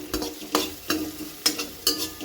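Homemade spice mix goes into a hot pan of soybean curry and is stirred, giving soft sizzling with several distinct scraping stir strokes at an irregular pace, fairly quiet and close.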